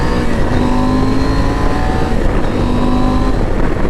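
A 2019 KTM 790 Adventure motorcycle on the road pulls hard under acceleration, its engine note climbing in pitch in two rising sweeps over a constant rush of wind noise, close and loud.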